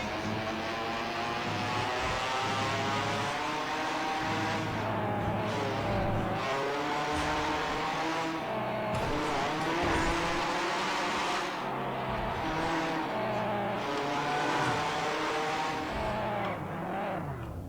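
A Red Bull Formula One car in a video game mod screams at high revs in third gear at over 300 km/h, the engine note rising and dropping steadily and continuously as it drives fast along the road.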